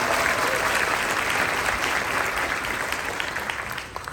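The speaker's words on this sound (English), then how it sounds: "Give yourself a round of applause." A graduating class at a commencement ceremony claps in a thick, sustained wash of applause that slowly thins and fades near the end.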